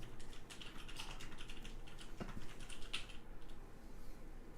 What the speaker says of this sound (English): I need to tell my wife to stop typing, please.